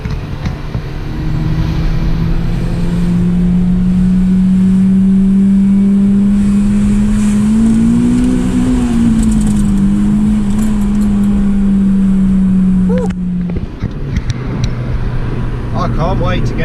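A Honda Civic Type R EP3 engine fitted with an ITG Maxogen induction kit revs and roars up with a sustained droning note, rising and falling before cutting off, then a quieter idle.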